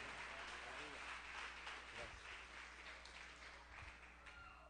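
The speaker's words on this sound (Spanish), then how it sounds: "Denle fuerte aplauso a Dios" Faint applause from a church congregation at an anniversary service in El Salvador, a diffuse wash of many hands clapping with some scattered voices beneath, fairly distant and low in level.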